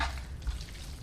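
Spaghetti cacio e pepe being stirred together with pecorino cheese in a hot pan, giving a continuous soft wet sizzle and slurry of mixing, close and steady for about a second, with no talking.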